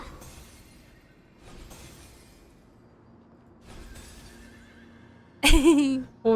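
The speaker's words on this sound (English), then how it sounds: "you can hear the horse." A horse in a video game whinnies loudly and sharply near the end, following a few quiet, muffled stretches of low background sound.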